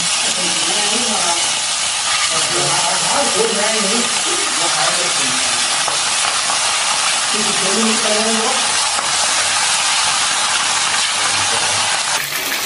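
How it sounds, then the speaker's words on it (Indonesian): Chicken frying in hot oil in a wok gives a loud, steady sizzle and hiss throughout, while a person talks intermittently underneath. "Kalau sudah panas, kita masukkan ayamnya."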